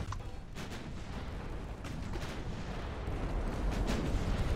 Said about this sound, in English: there's another big ammo detonation on these guys